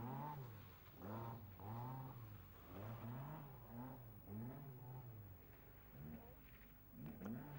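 A classic Ford Cortina corners hard with its back end swinging, its engine rising and falling in repeated revving swells, heard from inside the car at moderate volume.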